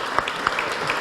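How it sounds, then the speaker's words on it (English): Applause from a crowd, a steady wash of clapping with a few louder claps standing out, fairly close and continuous through the short moment. "Please give them all a round of applause."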